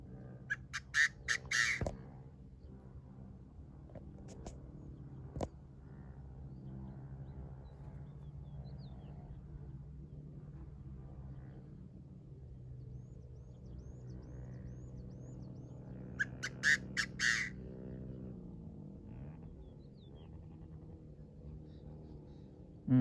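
A decoy Chinese francolin, used for field francolin trapping, gives two loud squawking call bursts, one at the start and one about two-thirds through, over a steady low outdoor hum.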